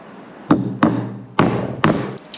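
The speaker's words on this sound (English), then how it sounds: "we're going to hammer it straight through the center of the timber" A framing nail is hammered through timber with four sharp, resonant strikes at an uneven pace, each ringing briefly before the next, close and loud with no talk.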